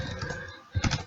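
Brief burst of keystrokes on a computer keyboard as a command is typed to run a network program, a steady patter of clicks followed by a few louder, closer key presses at the end, with no talking.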